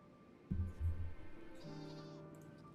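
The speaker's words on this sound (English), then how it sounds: "It's a sheep, isn't it?" A sheep mount in the online game Final Fantasy XIV gives two short, loud, close bleats, then a quieter wavering tonal game sound lingers, with no speech.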